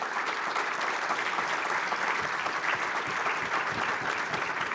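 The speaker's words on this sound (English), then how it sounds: "I would like you to join me in giving our panelists a round of applause" An audience at a business panel session applauds the panelists, with dense, steady clapping holding an even level throughout and no talking over it.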